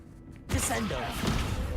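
A Descendo spell from Hogwarts Legacy slams a target down: a sudden whooshing impact bursts in about halfway through, followed by a sustained dense rumble of magical effects and game noise.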